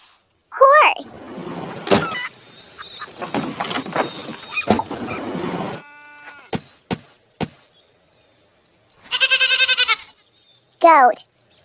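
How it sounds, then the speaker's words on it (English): A farm goat bleats loudly and close by in two shaky bursts near the end, following earlier speech and some sharp clicks. "Goat."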